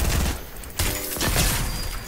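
A charge shotgun fires in the Fortnite video game amid dense game noise: a sharp blast lands near the middle, followed by further bursts and rumble in a busy battle mix.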